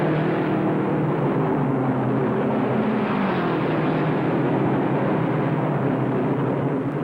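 The V8 supercharged Novi race car at the 1957 Indianapolis 500 roars along the backstretch, a steady, loud, droning engine note that holds and slightly shifts in pitch with no voices over it.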